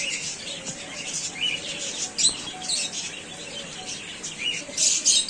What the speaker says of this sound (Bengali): পাখির ডাকেই মানে ভালো লাগছে